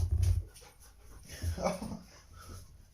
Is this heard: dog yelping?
yes